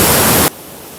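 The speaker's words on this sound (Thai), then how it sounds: "ฟังเสียงน้ำตก" Waterfall at a remote, abandoned forest site, running strong after rain: a loud, steady rushing roar that suddenly drops to a much quieter wash of noise halfway through, with no voices.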